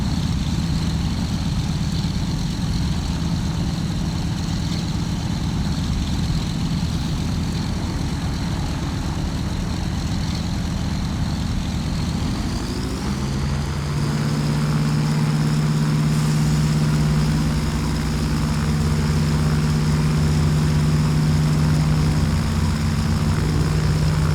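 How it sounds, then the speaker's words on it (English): Douglas DC-3 propeller engines throttled up for takeoff in a flight simulator: a steady loud drone climbs in pitch partway through and settles into a stronger, even roar. "Just line up with the runway and push the throttle forward all the way."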